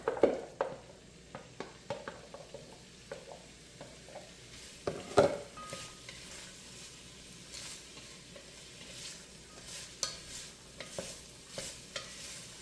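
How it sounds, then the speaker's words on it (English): Vegetables sauté in a pan for pasta e fagioli, with a soft steady sizzle under irregular scraping stir strokes of a utensil that come every second or so. "And we'll kind of stir and saute these for about 15 minutes till they're a little bit tender."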